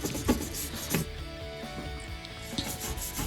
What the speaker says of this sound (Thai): ใช้แปรงขัดค่ะ ขัดตามรอยเลยนะคะ ขัดตามรอยที่เขาเขียนเลย มันก็จะหลุดออก